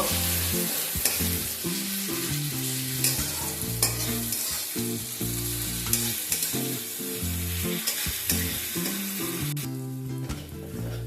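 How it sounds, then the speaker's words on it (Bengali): Garlic paste frying in a pan for a fish dish, with steady loud sizzling and repeated stirring scrapes running continuously throughout. "রসুনটা দেবার পরও রসুনটাকে যাতে কাঁচা গন্ধটা চলে যায় সেজন্য অল্প কিছু সময় নিয়ে একটু ভেজে নেব"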